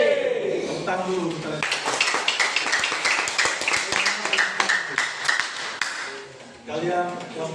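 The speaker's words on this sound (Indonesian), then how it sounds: "Tepuk tangan dulu." A school class of students claps hands together in a classroom, a burst of many sharp overlapping claps lasting several seconds, with voices speaking before and after the clapping.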